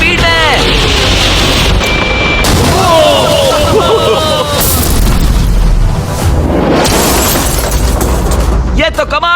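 A loud boom from a Lamborghini being destroyed, heavy low rumble and crashing debris sustained across the scene, with excited shouting voices throughout.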